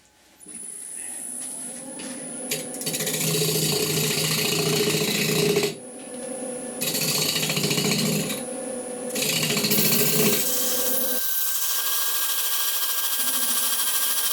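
A sycamore wing bowl spins on a wood lathe while a cutting tool works its side, giving a steady, loud rasping hiss with a few brief pauses and shifts in tone as the cut changes.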